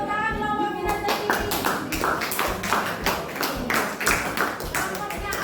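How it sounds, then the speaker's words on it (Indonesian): A classroom group claps in a quick, regular beat of sharp, close hand claps, with children's voices mixed in underneath throughout. "Oke, tepuk tangan kelompok minat tadi."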